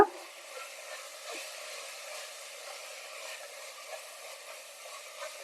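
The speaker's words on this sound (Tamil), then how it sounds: "இப்போ நம்ம எடுத்துருக்கிற மிளகாய் தூள் மஞ்சள் தூளை சேர்த்துக்கலாம் இதில் இது நல்லா எண்ணெயிலே கலந்து விடுங்க" Chili and turmeric powder stirred into hot oil fry with a soft, continuous sizzle and faint crackles, heard alone at a moderate level.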